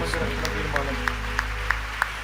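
A church congregation clapping in praise to God, with sharp claps in a steady, even rhythm under a continuous voice.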